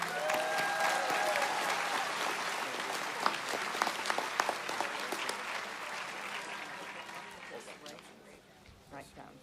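Sustained applause from a large crowd at a college commencement, dense clapping that swells and then gradually tapers off.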